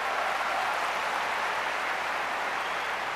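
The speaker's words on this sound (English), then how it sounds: "Can we give these guys a round of applause?" Audience applause for speakers on stage at a business presentation, a steady dense wash of clapping from a crowd that holds even and loud from start to finish, no voices over it.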